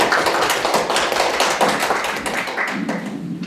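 Audience at a lecture seminar applauding to welcome the speaker, a dense, steady burst of clapping from many hands in a room, loud and close, tapering slightly at the end.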